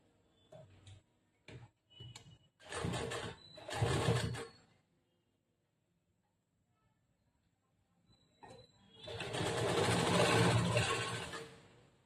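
An electric sewing machine runs a second line of stitching over an existing seam on a princess-cut blouse. It makes a few short clicks, then two quick bursts of running, then one longer steady run, with no talk.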